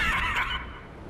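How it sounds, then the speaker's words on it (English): A short, bright horse whinny from a wild horse in the video game The Crew Motorfest, loud and close, fading quickly into a low rumble. "Here we ride wild horses"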